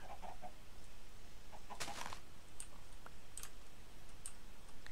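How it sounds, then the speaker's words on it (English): Game chickens cluck in short, clipped bursts scattered over a steady background, with bright clicking chirps near the middle and end, moderately loud and with no talk. "Okay, chicken. Can you not get out of that hole?"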